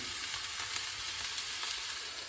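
Cauliflower mushroom (Sparassis crispa) cooks in a pan with a steady, fairly loud broadband sizzle, continuous and even with a few small pops, and no voices.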